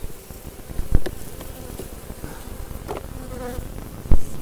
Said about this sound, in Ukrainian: Трохи бджоли неспокійні